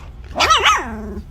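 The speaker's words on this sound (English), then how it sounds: "Wow, already barking." A dog gives a single close, loud bark that rises and bends in pitch with a slight growly edge, lasting under a second, with no talking over it.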